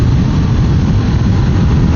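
Honda CBR500R motorcycle engine pulling steadily in third gear at moderate revs, a continuous low droning rumble with wind noise, loud and close throughout, no talking.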